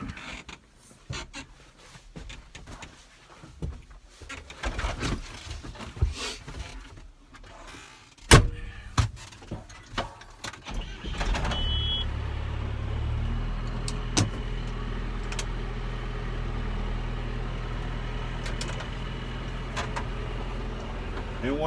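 A farm vehicle starts up amid some rattling and clunks, with a couple of sharp knocks, then settles into a steady, loud engine rumble as it drives off.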